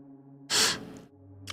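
A single sharp, breathy gasp or inhale close to the mic, followed by softer exhaled breath, with a faint low hum in the background.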